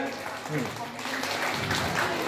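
Audience applause at the All Bengal Yogasana Sports Championship 2025, a steady dense patter of many hands clapping throughout, with a voice talking over it.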